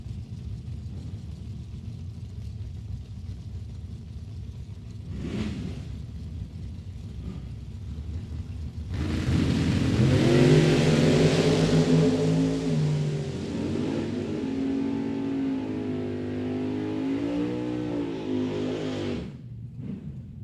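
A 1927 Ford Roadster and a Camaro launch down a drag strip at Mid Michigan Motorplex, engines roaring loudly with revving, wavering tones that swell suddenly and then hold a sustained roar as the cars pull away.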